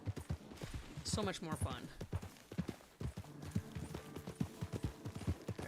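In Red Dead Online, a horse's hooves pound along at a steady clip-clop over the prairie, clear and close, with a man chatting over the hoofbeats.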